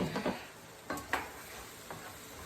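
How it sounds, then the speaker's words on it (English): Mushrooms frying in a pan give off a steady, soft sizzle while a utensil stirs them now and then, scraping in a few brief bursts near the start, around the middle and toward the end. "We're just doing an occasional stir here with our mushrooms"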